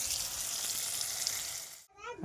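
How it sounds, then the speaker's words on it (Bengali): Onion, tomato and green chili frying in a pan, a steady close hissing sizzle that cuts off near the end, followed by a brief voice. "দেখো পেঁয়াজ, টমেটো, কাঁচা লঙ্কা দিয়ে দিয়েছি। একটু ভাজা ভাজা হয়ে গেলে আদা রসুন দিয়ে দেবো"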